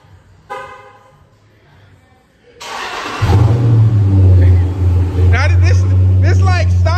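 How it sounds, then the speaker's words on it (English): A Dodge Charger SRT 392 with stock exhaust cold starts: the engine cranks and catches, then settles into a deep, loud rumbling idle with a couple of revs; a voice briefly talks before it starts. "we're gonna give you a little cold start and let you hear it."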